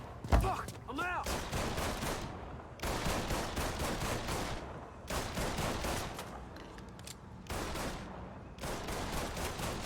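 Bursts of rapid automatic gunfire from a video game come in repeated loud volleys separated by brief pauses, with faint voices in the background.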